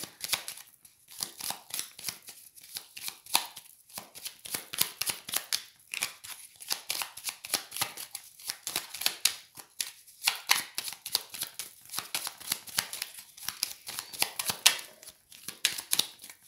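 Tarot cards being shuffled by hand, a steady stream of crisp riffling and flicking bursts that repeat again and again, close and fairly quiet, with no voice.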